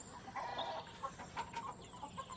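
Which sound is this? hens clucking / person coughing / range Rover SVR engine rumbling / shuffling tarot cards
hens clucking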